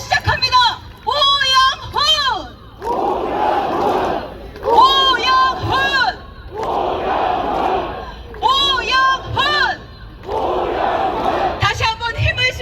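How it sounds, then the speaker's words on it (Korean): A crowd at a Jeju gubernatorial candidate's campaign rally shouts and cheers loudly in repeated rhythmic bursts, with chanted voices rising and falling over a dense murmur of many people. "다시 한번 힘을 실어주는 큰 박수 환호성 부탁드립니다."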